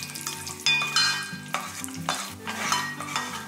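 Cashew nuts and raisins frying in oil in a pan for milk vermicelli payasam, a steady sizzle with stirring scrapes throughout, no talking.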